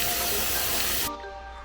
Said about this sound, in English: I'm gonna get these chickpeas all washed and then let them soak overnight